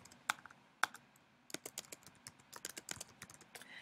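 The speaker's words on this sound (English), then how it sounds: "You can type in your student's name" A student's name being typed on a computer keyboard, two isolated key clicks followed by a quick burst of rapid, close, light keystrokes.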